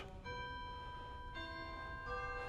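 Tubular chimes of a Ruffatti pipe organ in a concert hall ring out in sequence, three struck tones with long sustained, bell-like overtones overlapping, heard fairly softly and alone.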